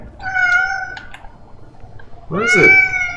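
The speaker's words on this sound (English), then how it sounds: "Why are you meowing?" A cat meows in the video game Moons of Madness, with a short pair of mewling calls near the start followed by a louder, longer drawn-out meow at the end, heard alone over a quiet background.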